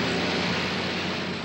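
Propeller airplane engine with a steady, dense, loud drone, continuous and unbroken throughout with no talking over it.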